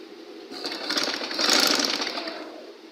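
Sewing machine stitching a sleeve, a short run of rapid mechanical whirring that builds to a peak and tapers off, close and moderately loud with no talking.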